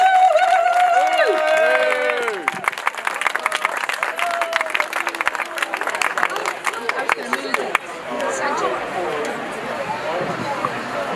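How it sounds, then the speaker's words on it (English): An outdoor protest crowd in a city square applauds and cheers, sharp claps and whoops rising over a fading voice, then settling into a steady patter of clapping. "if we can just have a massive round of applause for Joan, please"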